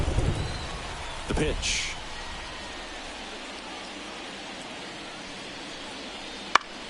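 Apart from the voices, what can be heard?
rain and thunder at a ballpark in a baseball video game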